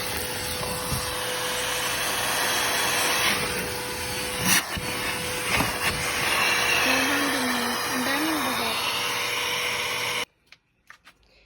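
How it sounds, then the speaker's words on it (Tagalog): A vacuum cleaner runs continuously with a loud, steady hiss while cleaning a car interior, then cuts off abruptly near the end, leaving a few faint knocks. "Kailangan talagang i-vacuum."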